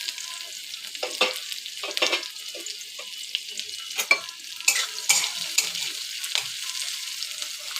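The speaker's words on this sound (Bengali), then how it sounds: "ওই তেলটার মধ্যেই আমি পেঁয়াজটুকু দিয়ে দেবো" Onions frying in the hot oil left from crisping fried onions for a chicken and egg biryani, a steady high sizzle with repeated scraping stirs of a spatula across the pan, close and fairly loud with no voices.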